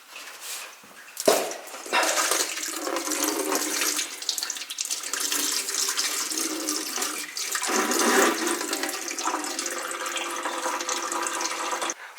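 Coolant pours steadily from a disconnected hose on a Subaru STI into a bucket during engine removal, a continuous close splashing trickle of liquid running for the whole stretch with no talk.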